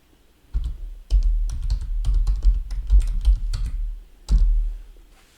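Typing on a computer keyboard into a web browser: bursts of quick, close key clicks with short pauses between them and a final few taps, no speech.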